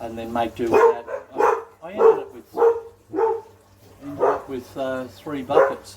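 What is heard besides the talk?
dogs barking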